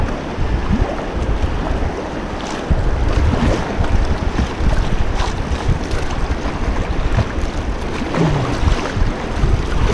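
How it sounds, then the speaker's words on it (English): River rapids on the Buffalo River surge and churn around a small boat at water level, a loud continuous roar of rushing waves mixed with heavy wind buffeting the microphone, with no talking. "those waves sure do get intimidating when you're sitting eye level with them"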